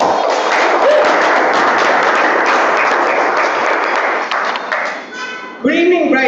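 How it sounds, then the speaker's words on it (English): Audience applause at an evening club meeting, steady dense clapping filling the room for several seconds, fading near the end before a brief burst of sound and tonal chime-like sounds. "So let's give a big round of applause for Manish."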